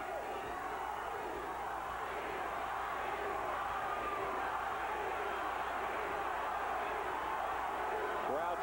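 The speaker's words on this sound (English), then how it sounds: "Crowd trying to urge on Tommy Hearns for one last moment here." Spectators at a 1992 professional boxing match between Tommy Hearns and Iran Barkley roar and shout in a sustained, dense wave of cheering from a big arena crowd, heard at a moderate distance.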